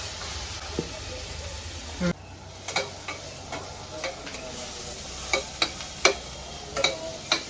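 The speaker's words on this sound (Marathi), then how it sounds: "आता मी टोमॅटो टाकतोय" Tomatoes are added to a sizzling vegetable masala and stirred with a utensil, producing a steady close frying hiss punctuated by irregular clinks and scrapes against the pan.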